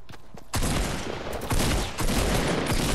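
Loud gunfire from a first-person shooter video game bursts in after a brief quiet moment, a dense, sustained volley of shots with no speech heard.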